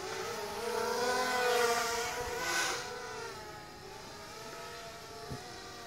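Blade 200QX quadcopter drone motors whirring at reduced throttle, a steady buzzing whine with shifting pitch that rises to a peak and then eases, heard alone with no talking.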